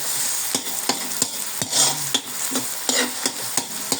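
Garlic and onions sautéing in a pan for pancit, with a steady sizzle under regular scraping stir strokes from a utensil against the pan, close and fairly loud, no talking.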